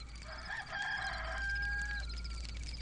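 A rooster crows once, a clear, drawn-out call of moderate loudness over a steady low hum, with faint clucking beneath.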